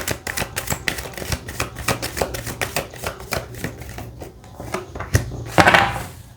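A deck of tarot cards is shuffled by hand in a series of quick riffles and taps, with rhythmic close-up flutters and a louder burst near the end, no voice.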